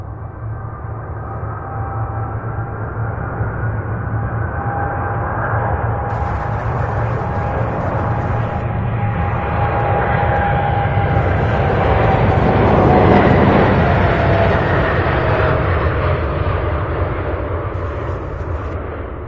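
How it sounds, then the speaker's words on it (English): An MD-11 airliner on its takeoff run, engines building from a droning whine with a clear high tonal note into a swelling, thunderous roar that peaks loudly and then slowly eases, broken by crackly bursts. "We have an MD-11 about to take off"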